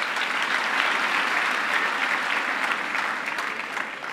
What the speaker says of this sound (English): Let us give a round of applause for Andre Estezera and his team.